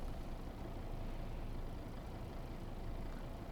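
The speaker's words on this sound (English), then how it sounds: "With the window open, we can hear the engine more." A steady, low bus engine rumble in the video game OMSI 2, heard with the window open, drones continuously with no breaks.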